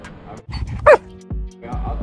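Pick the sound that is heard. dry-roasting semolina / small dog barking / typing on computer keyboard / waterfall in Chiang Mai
small dog barking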